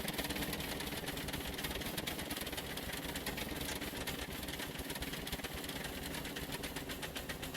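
Gas engine in Scrap Mechanic, a faint, dense mechanical chugging with rapid, even pulses that runs steadily and stays low in level throughout.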